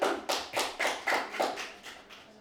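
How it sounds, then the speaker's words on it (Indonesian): A handful of people at an evening Ramadan iftar gathering clap their hands in about nine distinct, rhythmic bursts, close and moderately loud, with no voices over them. "Mari tepuk tangan semuanya."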